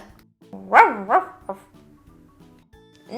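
A dog gives a few high, tonal barks in quick succession, then pauses through quieter background sounds before one more bark starts at the end.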